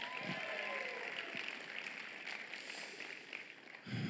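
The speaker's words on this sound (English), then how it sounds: "Let's give her a round of applause." Church congregation clapping at a Good Friday service, fairly quiet and sustained, with voices mixed in and a short low thump near the end.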